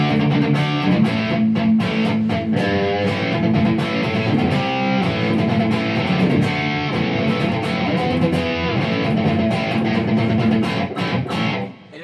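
An electric guitar plays chords and riffs through the distortion effect of a Boss GT-1000 multi-effects processor, loud and steady, with a gritty, saturated tone that cuts off at the end.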